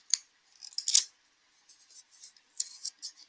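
Scissors snipping through a piece of masking tape, a few sharp close clicks and short crisp cuts in scattered bursts with quiet gaps between.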